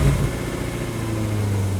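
An old Jaguar car's engine settles into a low, steady idle right after starting, a deep humming rumble that holds even and close for a couple of seconds without talk.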